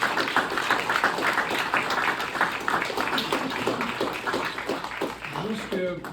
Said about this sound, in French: je crois qu'on pourrait peut-être juste lui donner une bonne main d'applaudissement